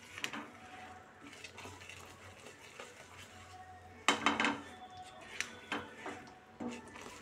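Gram flour and ghee for Mysore pak being stirred in a pan gives faint scraping and light metallic clinks of a spoon against the pan, a brief louder clatter near the middle, with no talk.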